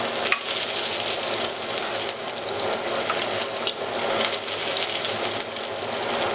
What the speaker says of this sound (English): So you want to add up some more butter. Just keep basting.